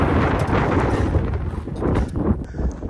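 Strong gusting wind buffets the microphone on a mountainside, a loud low rumbling roar that swells and dips unevenly.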